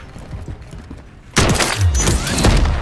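A video game gun fires in quick clustered shots, a sudden loud burst kicking in partway through after quieter mechanical clicks, close and sharp.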